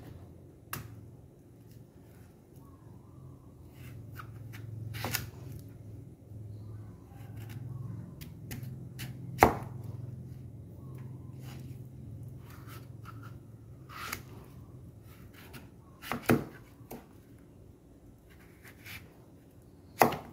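Sharp, isolated knife strikes on unripe papaya come at irregular intervals, fairly close and crisp against a quiet low hum.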